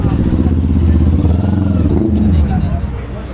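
Motorcycles, Royal Enfield machines including the Interceptor 650, idle and rumble at a club anniversary gathering at Villa Escudero, a dense low engine drone under crowd chatter and a voice talking.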